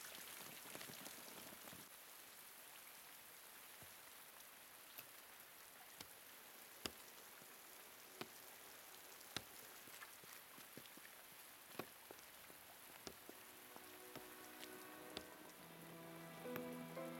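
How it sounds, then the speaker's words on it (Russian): Heavy rain pours steadily onto a surface with dense, continuous patter and scattered sharper drops, heard at moderate distance with no voices, a faint tonal hum creeping in near the end. "Такой дождь."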